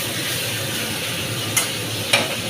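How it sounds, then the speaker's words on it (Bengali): Garlic fries in a pan with a little sugar, making a steady close sizzle broken by two brief scraping stirs. "একদম ভাজা ভাজা করে নেবো রসুন"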